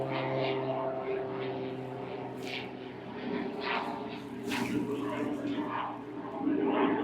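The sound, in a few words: loud airplane passing overhead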